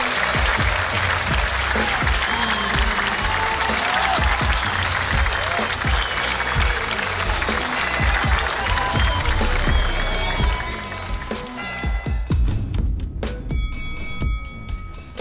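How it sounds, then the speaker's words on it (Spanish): A live comedy show audience applauds the comedians at the season finale, loud sustained clapping and crowd noise that thins toward the end as scattered claps and voices remain. "¡Reciban el aplauso de su público!"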